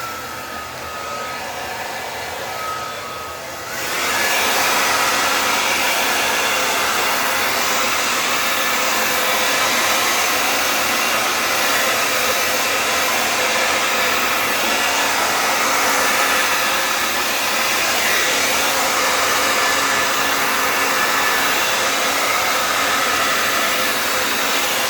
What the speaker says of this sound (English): So I am going to get the hair dryer, because if it's really as thin as it looks, the hair dryer should be helpful.